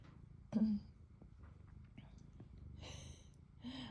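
A domestic cat purrs softly at close range, a faint steady rumble with a few brief louder bursts of movement and breathing nearby.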